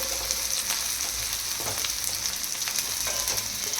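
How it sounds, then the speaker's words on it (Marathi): Chopped onion fries in a pan until browned, a constant close sizzle and crackle with scattered pops and light stirring, and nobody speaks. "कांदा खरपूस होईपर्यंत तळायचा"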